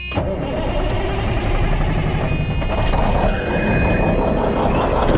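A farm truck engine cranks and catches, then settles into a steady, loud idle close by, with a clanking start followed by a continuous rumbling run.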